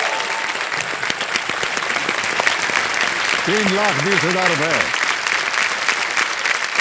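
Loud, sustained applause from a game-show studio audience for a contestant being awarded a cheque, continuing steadily throughout with a brief spoken line partway through.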